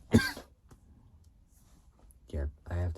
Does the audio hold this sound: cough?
yes